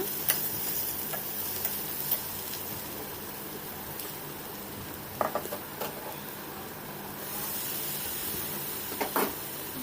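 Okra sautéing in a pan over low heat for a tamarind curry, a steady soft sizzle with occasional sharp stirring clinks and scrapes, no voices.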